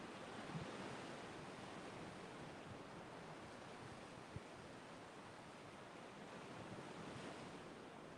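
Steady ocean surf rolls onto a Gulf beach during shore fishing, a continuous broadband wash of breaking waves with some wind rumble, constant and fairly close throughout, with no talking.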